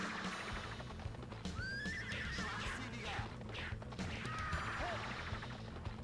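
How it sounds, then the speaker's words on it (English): Horse neighing and whinnying in the arcade game Warrior Blade: Rastan Saga Episode III, two shrill cries heard amid game music, hoofbeats and combat sounds. "I feel bad for that horse."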